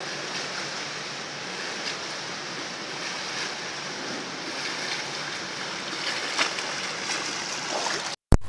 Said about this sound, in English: here is the above water version of breaststroke for all completed steps 1 through 3 for both kicking and pulling